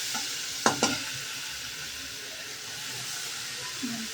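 Onion-garlic masala roasting in a pan with a little water and salt, a steady soft sizzle and hiss with a couple of sharp stirring scrapes near the start.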